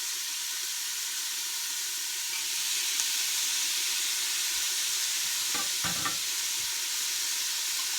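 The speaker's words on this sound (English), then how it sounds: "let those onions saute down and get kind of translucent" Onions sautéing in a pot for zuppa toscana with minced garlic, giving a continuous loud close sizzle and hiss, with a few brief stirring scrapes near the end.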